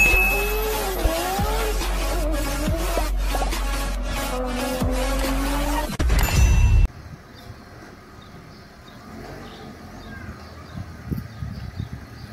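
A 2003 Fiat Uno pulls away through city streets, its engine note rising and shifting with gear changes, loud and close, before everything drops to quieter background road noise.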